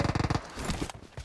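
Uzi submachine gun fire in PUBG Mobile: a quick burst of rapid, evenly spaced shots that trails off into softer scuffing noises, fairly faint overall.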